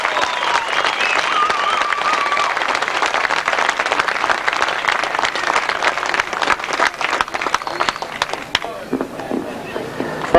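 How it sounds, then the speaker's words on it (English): A crowd at a 1992 British Masters grasstrack racing qualifier claps loudly and steadily for about eight seconds, with cheering mixed in. The dense applause thins out and fades near the end. "Well, I think you can tell by that round of applause, Gary, that there's a lot of people pleased"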